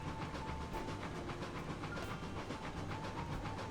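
Long train rolling through trees and mountains in RailRoads Online, a soft continuous rumble and hiss with faint rhythmic clicking of wheels, steady and fairly distant, no talk.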